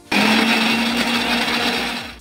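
Mixer grinder grinding coconut slices, a loud, steady high whirring motor hum that starts abruptly and runs close up for about two seconds before winding down.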